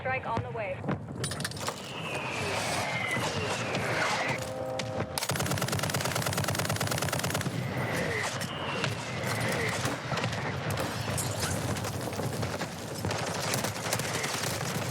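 A mortar strike is called in during a first-person shooter match, with sustained dense gunfire and rumbling explosions over a steady roar of battle, loud and continuous with a voice briefly speaking.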